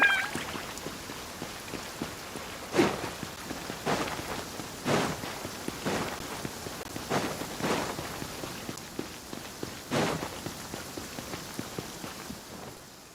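Rain falls steadily through a game hangout scene, a soft continuous patter with a few sharper accents scattered across it.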